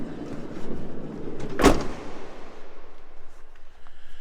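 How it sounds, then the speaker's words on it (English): Side door of a 2021 Winnebago Era 70A Class B camper van slid shut, one sharp close slam at mid-clip amid quiet outdoor background. "Let's close this door."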